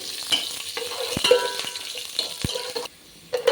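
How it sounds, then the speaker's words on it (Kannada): Curry leaves and onion fry in hot oil in a pan, giving a crackling sizzle broken by stirring clinks and scrapes of a spoon. A brief quiet gap comes near the end. "ಇದಕ್ಕೆ ಇವಾಗ ಸ್ವಲ್ಪ ಕರಿಬೇವು ಹಾಕ್ಕೊತಾ ಇದ್ದೀನಿ ಜೊತೆಗೆ ಈರುಳ್ಳಿನೂ ಹಾಕ್ಕೊತಾ ಇದ್ದೀನಿ ಇದೊಂಚೂರು ಫ್ರೈ ಆಗಲಿ"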